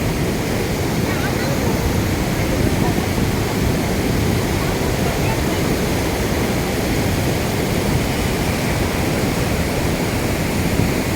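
River running full to both banks, heard from rocks near the water's edge as a loud, unbroken rushing roar of flowing water that fills the whole stretch.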